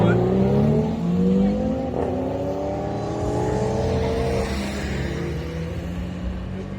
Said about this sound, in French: Près de 80 voitures viennent de passer devant vous.